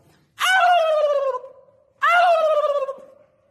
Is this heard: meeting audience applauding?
no